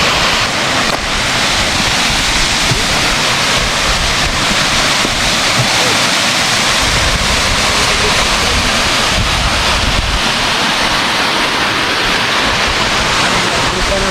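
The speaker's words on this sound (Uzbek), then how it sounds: "Mana tepasida katta tog' soy sharshirasi." The Tovoqsoy mountain stream waterfall rushes in a loud, continuous broadband roar, close and unbroken, with wind buffeting the microphone.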